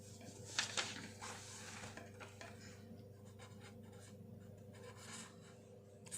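A hand writes an answer on paper, pen scratching in short bursts of strokes close by, with small taps and rustles between them over a quiet room hum.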